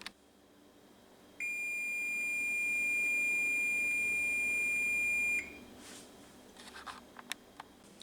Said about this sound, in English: The timer has went off